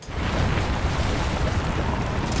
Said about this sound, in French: La fin, volcan, terre qui tremble,